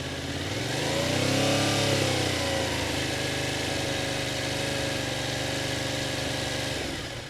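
A motorcycle engine revs up with open throttle, its pitch rising and swelling over the first two seconds before easing into a steady, close, continuous drone.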